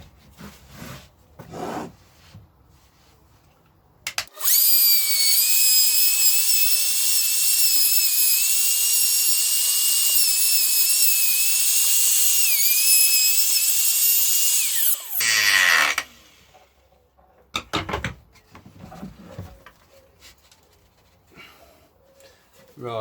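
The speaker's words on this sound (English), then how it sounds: "I've cut that depth about 1/2 inch there with that shallower router cutter" A power router cuts into the body of a Goldtop Les Paul guitar build, a loud, steady high-pitched whine lasting about eleven seconds that stops abruptly, with knocks and handling noises before and after.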